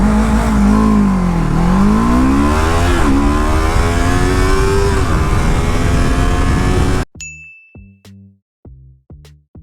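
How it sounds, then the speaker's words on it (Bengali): A Jedi Motor K-333 twin-cylinder sports bike revs loud and close, its engine pitch rising and dipping through several gear shifts, then cuts out, followed by a series of soft separate thumps and a ding. "বাইক স্পিড গেইন করে খুবই ফাস্ট"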